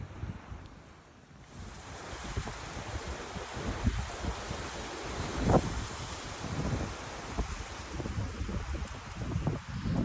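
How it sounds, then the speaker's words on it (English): Strong, freezing gusting wind on the Arizona Trail between Montezuma Pass and Sunnyside Canyon buffets the microphone with a steady low roar, rising and falling in bursts, with surf-like noise in the background. "Okay, I'm in a sheltered spot, but this is friggin' windy."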